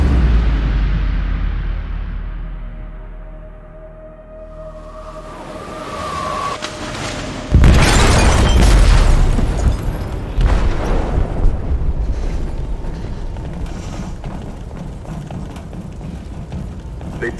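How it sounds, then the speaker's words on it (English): A deep, heavy explosion detonates in a ship's hold in Detroit: Become Human, a sudden loud boom over a low rumbling background, followed by a long roaring, crackling aftermath and churning noise. "They detonated an explosive in the hold."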